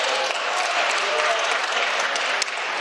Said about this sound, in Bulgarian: Колеги, не мога да разбера какво ръкопляскате